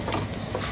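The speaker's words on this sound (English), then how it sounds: "All of the juices are completely gone. It's actually frying it up." Meat for chile verde fries in a pan after its juices have cooked off, a steady close crackling sizzle with faint stirring, continuous and even throughout the short moment.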